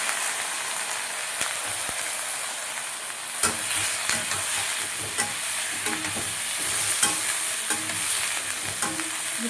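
Fish, eggplant, potatoes and chili hit hot oil in a pan with a sharp burst of sizzling that stays steady and close, broken by scraping and clinking from stirring.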